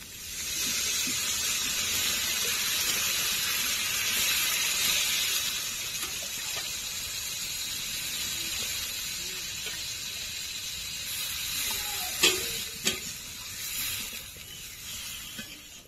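Water poured into hot, well-fried spice masala for a rohu fish curry hisses and steams in a broad, steady wash, easing off toward the end with a few sharp clinks and splashes near the close.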